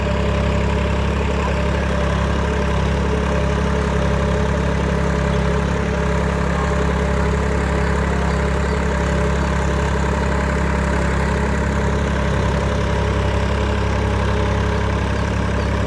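Massey Ferguson 5245 DI tractor pulling a five-point cultivator on a farm, its engine giving a steady, loud, low drone throughout with no one speaking.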